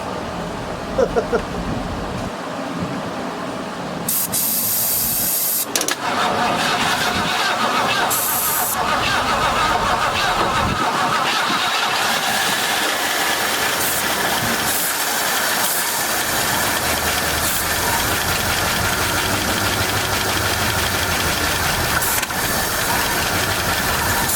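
A 1972 Mercury Montego MX with a fuel pickup problem from the gas tank cranks over, then settles into a steady, loud engine roar with hiss that runs without a break to the end.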